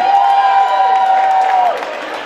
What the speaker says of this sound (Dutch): Uw applaus voor Sportteam 2013, voetbalvereniging Limmen Dames 1